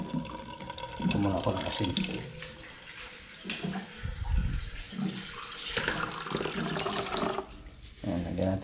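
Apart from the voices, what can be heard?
water poured into a bowl for soaking bitter gourd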